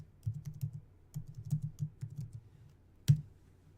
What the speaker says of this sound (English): I guess I'm going to have to type those in.